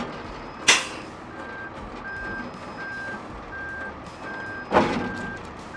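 A hooklift truck lifting and nudging its container, with steady reversing beeps throughout, engine rumble, and two sharp loud bursts of air release several seconds apart.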